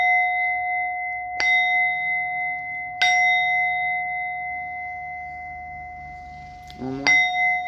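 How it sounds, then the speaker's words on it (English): A bell is struck three times, each ring sustaining a clear, steady tone that lingers between strikes, with a faint rattle just before the last. "So, ringing bells."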